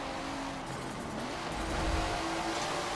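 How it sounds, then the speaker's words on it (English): A twin-turbo RB26 engine in a Datsun 2000 drones steadily in Forza Motorsport 7, a continuous mid-level engine note that swells slightly toward the end, with no talk. "Now that RB26 motor is definitely hauling some ass in this little tiny car."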